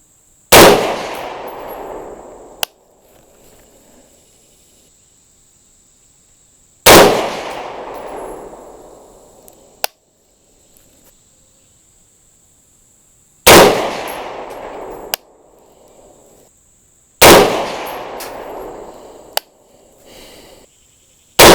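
Four loud rifle shots fired one at a time at a target during a scope base mounting test, each a sharp near blast with a decaying roar, separated by several seconds of quiet.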